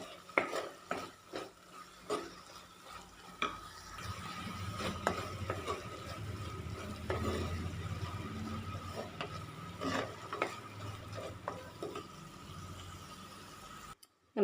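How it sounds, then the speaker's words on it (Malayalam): Garam masala stirred into a frying Kerala-style prawn roast, with a spoon clinking and scraping against the pan in irregular strokes over a steady background sizzle. "ചേർത്ത് കൊടുത്തിട്ട് ഒന്ന് ഇളക്കി കൊടുക്കാം."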